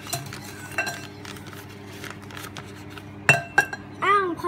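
A metal spoon scooping from a bowl during home cooking, giving a few sparse clinks and scrapes, with a sharper cluster of clinks near the end and low room noise between.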